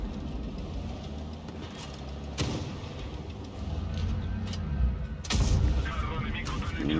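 Tank cannon shots in the video game World of Tanks Blitz, two sharp booming blasts spaced a few seconds apart over a steady engine rumble, with a voice talking throughout.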